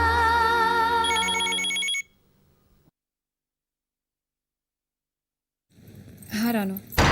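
A telephone rings in a Hindi TV serial scene: a steady, tonal ring for about two seconds, then silence, and then a voice speaks.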